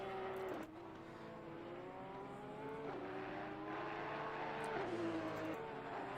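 Race car engines lapping the Kyalami circuit in Assetto Corsa Competizione, a steady stream of revving engines rising and shifting gears, several cars overlapping at moderate distance with no talking.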